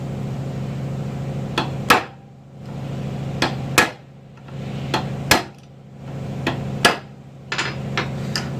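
Hammer blows drive a freeze plug into a Mazda rotary engine block during a rebuild, about eight sharp metallic strikes at an irregular pace, some in quick pairs, close and loud over a steady low hum.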